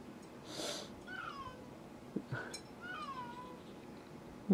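A cat meows several times at a moderate distance, drawn-out wavering cries spaced a second or so apart against a quiet background.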